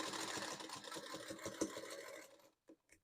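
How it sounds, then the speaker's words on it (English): Sewing machine stitching a quarter-inch quilt seam, a quiet rapid needle chatter in regular pulses for over two seconds, then stopping with a couple of faint clicks. "And now I'm going to sew 1/4 inch seam."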